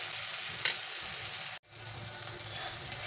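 Spiced masala sizzling and frying in a pan, a steady close hiss with a brief clatter, then a sharp drop to silence before the frying resumes at a quieter level.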